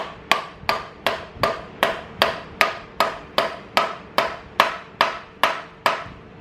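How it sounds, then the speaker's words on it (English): Steady hammer blows driving an adapter into place while fitting a motor, about fourteen sharp metallic strikes at an even, brisk rhythm, close and loud with no talking. "proceed to hammer it in"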